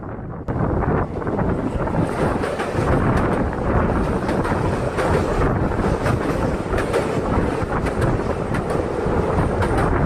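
A passenger train running from Kerala to Karnataka crosses the bridge over the Valapattanam river, heard from on board as a loud, continuous rumble and rattle with wind buffeting throughout.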